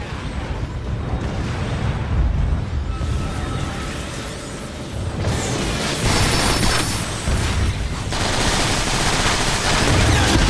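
Automated station defenses open fire in the game Transformers: War for Cybertron, with sustained rapid gunfire, booming impacts and dense crackling volleys that keep a loud, continuous battle din going without let-up.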